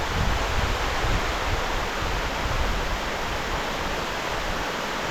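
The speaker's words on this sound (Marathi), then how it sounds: "पाऊस आहे छानपैकी" Steady rain falls across the hills of Maval, a dense, even wash of hiss that stays at the same level from start to finish, with no voices.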